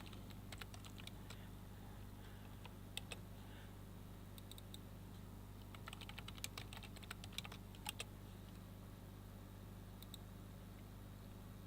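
Typing on a computer keyboard while renaming files, short scattered bursts of light key taps over a steady low hum, faint and close with no speech.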